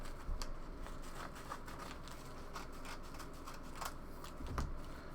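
Scissors snip and rustle against a parcel holding Lego minifigures and accessories, a run of quick, close, uneven cutting and crinkling sounds with no talk.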